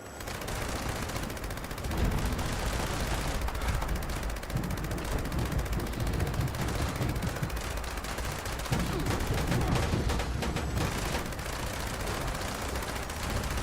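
Gunfire in the video game Fallout 76 rattles on continuously, dense bursts of automatic shots and heavy booms layered close and loud, with a player's voice occasionally under the din.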